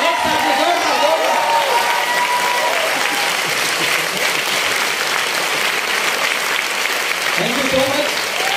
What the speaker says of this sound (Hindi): दिखा के एक बार ताली, क्लैपिंग और हंसी होनी चाहिए। जोरदार, एक साथ में जोरदार, जोरदार।